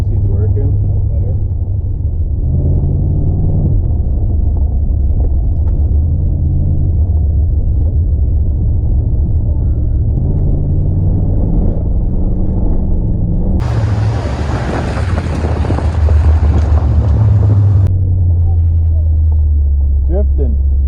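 A 1980 Buick Regal's engine runs steadily while the car is driven, a low continuous rumble with rising and falling revs, briefly joined by a harsher burst of broadband noise; people talk over it.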